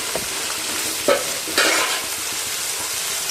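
Small shallots sizzle in hot oil in a pan for a Kerala-style chicken curry, a steady close crackling hiss broken by a few louder bursts as the pieces are stirred.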